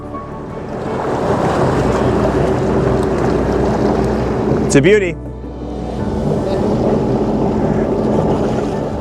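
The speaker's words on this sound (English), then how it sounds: "My favorite boat, the Ranger Tug." A Ranger Tug boat moves across open water in the Thousand Islands with wind and waves rushing steadily, while someone talks over it and a brief whistle-like tone sweeps through midway.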